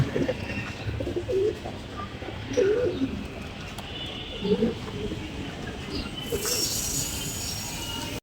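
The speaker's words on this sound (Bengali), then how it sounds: "আমাদের এখানে এভাবে এই কবিতর পালছে" Pigeons kept as pets coo in a rooftop coop in Dhaka, several soft warbling coos repeating at a steady pace over a constant background hum, with a brighter hiss rising near the end.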